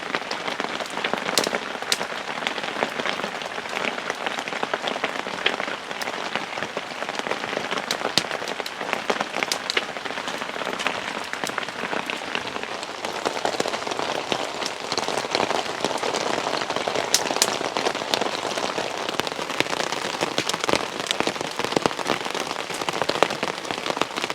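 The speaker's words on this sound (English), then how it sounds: "the rain's starting to calm down a little bit, but it is a constant trickle." Dense, steady heavy rain patters and crackles on a taut tarp in the woods, with sharp individual drops popping out over a continuous hiss; no voices.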